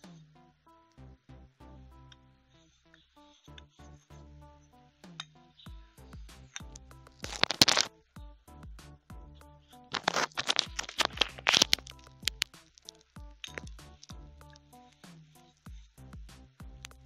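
Scissors cutting fabric pieces for a headband flower, close crisp snips in a quick irregular series with a few louder crunchy bursts, no talk.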